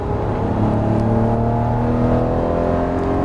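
A Lamborghini Murciélago accelerates on a race track at Las Vegas Motor Speedway, its engine a loud, steady drone with a rising, sustained pitch heard from close by throughout, with no talk over it.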